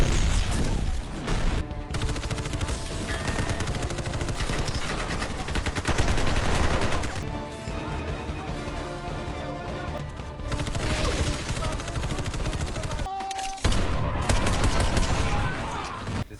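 Heavy gunfire fills an action-film firefight, dense bursts of automatic and single shots with crashes and impacts, loud and nearly continuous, with brief pauses.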